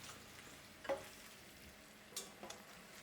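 Pasta being stirred in olive oil infused with garlic and peperoncino, a soft low sizzle with a few faint scrapes and taps of the utensil in the pan; quiet and close, no talk.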